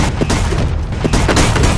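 Gunfire exchange in a film scene, with dense overlapping shots and booms merging into a loud, continuous roar rather than distinct single reports.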